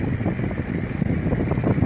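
Steady low wind buffeting and rumbling against the microphone on an overcast day in the Amazon rainforest, continuous with no voices.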